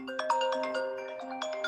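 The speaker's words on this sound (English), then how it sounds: "Ben's phone dings." A phone chimes with a text message notification in a kitchen, a quick run of bright, ringing tones in a short melodic pattern, clear and close with no voices.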